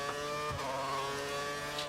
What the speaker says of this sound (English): no wonder I was over-revving, because it was in neutral